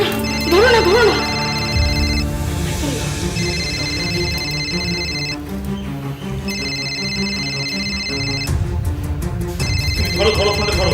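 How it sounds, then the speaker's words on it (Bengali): A telephone rings in a Bengali police drama scene, its repeating melodic ringtone sounding steadily and loudly for several seconds over a background of music. "ধরো ধরো, ফোনটা ধরো"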